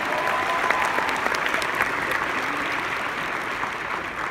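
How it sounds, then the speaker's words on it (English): Steady, loud applause from a large meeting audience fills the room, a thick continuous clatter of many hands clapping at an even level throughout. "big round of applause for all this."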